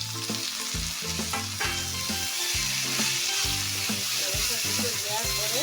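Two tomatoes dropped onto browned onions in a pan sizzle with a steady hiss and crackle. A tonal, melodic background plays beneath the frying.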